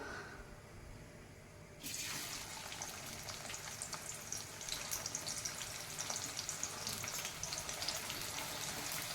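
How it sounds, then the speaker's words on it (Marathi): Sliced onions hit hot oil on a gas stove, a quiet hiss breaking into a loud, steady, crackling sizzle that keeps building for several seconds. "गॅसवर आपण कांदा फ्राय करण्यासाठी तेल गरम करायला ठेवलेला आहे, त्यामध्ये आपण कांदा फ्राय करून घेऊ।"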